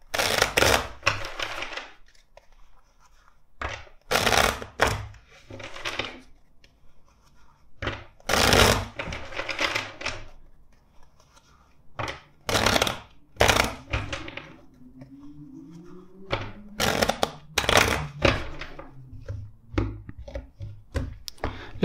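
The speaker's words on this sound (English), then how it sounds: "let's shuffle the deck four times for you" Tarot deck shuffled by hand in repeated bursts of crisp riffling and card slaps, close and fairly loud, separated by short pauses.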